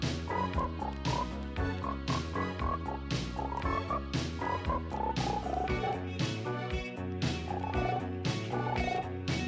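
A song, a loud, driving electronic dance track with synthesized frog-like croaking vocals riding over a steady, unbroken beat.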